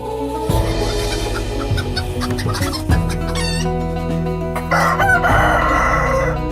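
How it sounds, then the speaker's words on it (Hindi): A rooster crows and chickens cluck in a poultry enclosure on an integrated farm in Uttarakhand, with loud, close calls layered over one another and no voices. "के साथ साथ हमें मुर्गी बाड़ा मिला, 50 के साथ चूजे मिले"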